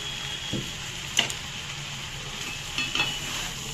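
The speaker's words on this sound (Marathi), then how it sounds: "त्यानंतर हे सगळं असं मिक्स करून घ्यायचं" Jeera rice being stirred and mixed in a pan, with soft scraping and sizzling and a couple of brief spoon clinks, close up and without talk.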